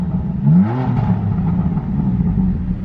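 A 2018 BMW M3 CS engine gives a low, steady rumble, with one short rev climbing and falling early on before it settles back to a throaty idle close by.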